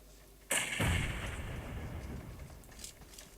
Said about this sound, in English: And Redders takes out Little with an explosion there